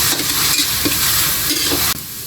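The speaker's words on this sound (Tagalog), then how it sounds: "pagkatapos natin maigisa ito sibuyas, bawang at kamatis" Onion, garlic and tomato sautéing in a pan for squid adobo, a steady loud sizzle broken by several short scraping stirs, with no voices.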